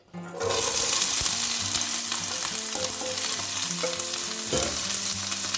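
Onions, fennel and garlic hit hot olive oil in a pot and burst into a loud, continuous close sizzle, with occasional utensil scrapes and knocks as the vegetables are stirred.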